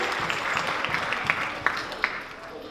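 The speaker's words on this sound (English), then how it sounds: "let's give a big round of applause to Chandra" An audience at a Hindu and Jain temple cultural program in Las Vegas gives a round of applause, a steady wash of clapping with a few sharper individual claps standing out.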